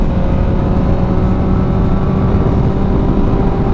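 A 2008 Honda CBR1000RR 1000cc sport motorcycle engine hums steadily while riding, a loud, continuous drone with constant pitch and wind rush, no speech.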